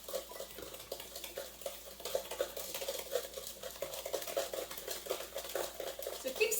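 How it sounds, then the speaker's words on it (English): A spoon or spatula stirs chocolate zucchini cake batter in a bowl, giving a quiet continuous patter of small wet clicks and scrapes in a fairly steady rhythm. "So keep stirring until nice and smooth, scraping down the sides as needed."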